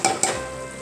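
Vegetables for pressure cooker pav bhaji sauté in oil in a pan: two quick, close stirring scrapes over a loud, steady sizzle with no voices.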